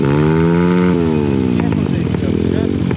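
Loud motorcycle engine on an off-road trail, heard up close with a steady roar that dips in pitch, with clattering over it and people talking.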